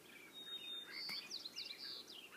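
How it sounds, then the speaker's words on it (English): Birds sing outdoors on a morning on Salt Spring Island, BC, a few thin, high chirps and whistled phrases in quick succession, moderately distant against a quiet background. "you can hear the birds and the frogs."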